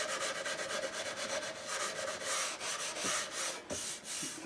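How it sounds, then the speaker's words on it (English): Coarse steel wool rubs back and forth across a surface in a quick, steady scratchy rhythm, faint and close, with no voices. "So I picked up some, looks like #1 sandpaper. I mean, steel wool, kind of coarse."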